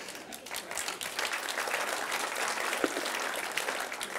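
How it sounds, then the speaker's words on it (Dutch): Audience applause at a defence event, continuous, fairly faint clapping from a crowd that runs steadily throughout with slight swells. "Ik noteer het derde applaus."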